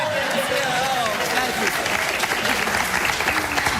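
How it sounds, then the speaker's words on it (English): Studio audience applause on a live daytime talk show, a dense steady wash of clapping with crowd cheers, loud and continuous, with voices faintly mixed in. "Please applaud."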